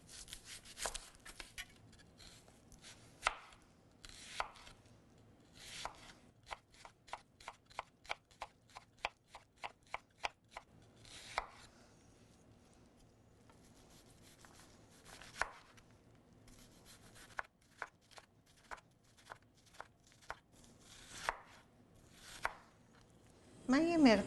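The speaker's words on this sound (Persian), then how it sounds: "الان من پیازم رو خرد میکنم" An onion being chopped on a board with a knife for Persian celery stew, in bursts of rapid, crisp close taps separated by short pauses, alone with no talk.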